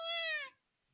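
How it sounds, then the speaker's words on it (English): A small black kitten gives a single clear, sweet meow lasting about half a second, close and loud, then falls silent. "A small black kitten tosses around from underneath the beach. Eru, is that you? Transceiver the cat meows sweetly in reply."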